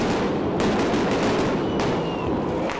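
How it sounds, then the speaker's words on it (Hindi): Police fire shots into the air at a protest, giving several sharp cracks over a loud, continuous noise of the crowd and the street. "पुलिस ने प्रदर्शनकारियों पर आंसू गैस के गोले छोड़े और हवाई फायरिंग भी की"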